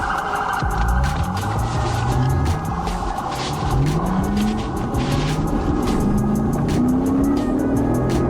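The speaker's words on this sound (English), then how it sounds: "A silver Lexus driver on Highway 300 nearly caused a serious accident by recklessly speeding and weaving through traffic" Silver Lexus speeding and weaving through traffic on Highway 300: repeated rising engine revs through gear changes, loud and close, under a dense layer of road and wind noise with sharp clicks and knocks.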